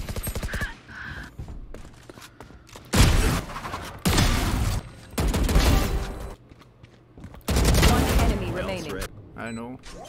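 Bursts of video game gunfire come in several loud volleys separated by short gaps, with players talking over and between the shots.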